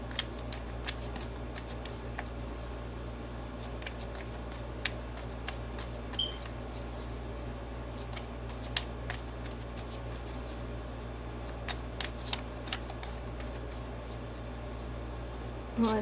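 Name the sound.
shuffling tarot cards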